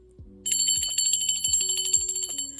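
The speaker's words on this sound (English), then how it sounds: "let me ring the bell on that one" A bright bell rings continuously in a rapid trill, close and clear, over a low rhythmic thumping beat.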